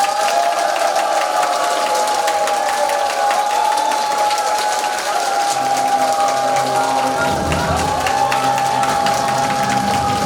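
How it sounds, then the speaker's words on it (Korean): An audience at a Saturday lecture gives a speaker a sustained welcoming applause that fills the hall, with a steady electronic hum running underneath and a low rumble joining partway through. "뜨거운 박수로 맞아주시기 바랍니다."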